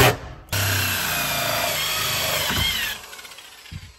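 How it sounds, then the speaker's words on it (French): A power drill bores ventilation holes in a van, a loud continuous grinding whir that cuts in sharply, runs for about two and a half seconds, then stops. "Je viens de percer 3 bouches d'aération pour répartir la chaleur."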